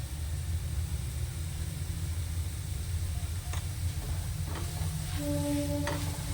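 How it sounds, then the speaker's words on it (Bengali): Chopped cabbage fries in a pan with a steady, close sizzle over a low hum, joined near the end by a few light clicks and scrapes of stirring. "আর 2-1 মিনিট বাঁধাকপিটা ভেজে নেব"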